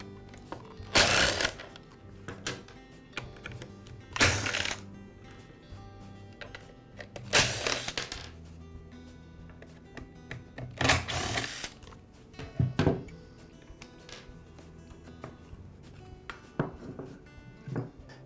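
A rear cover comes off a Ryobi trimmer: a few close screwdriver whirs and bursts of turning screws separated by quiet gaps, with small plastic clicks and knocks between them.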